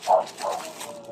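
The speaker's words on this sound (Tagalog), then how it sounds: "maingay yung aso ko" A dog barks two or three times in quick succession at moderate distance, short sharp yelps in an indoor space.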